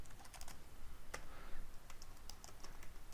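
Rapid typing on a computer keyboard while entering Python code, a quiet, continuous patter of key clicks at close range with no talking.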